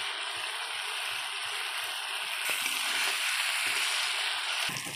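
Spice masala with a little salt fried and stirred in a pan before marinated chicken goes in, a continuous bright sizzle with soft scraping stirs, close and alone.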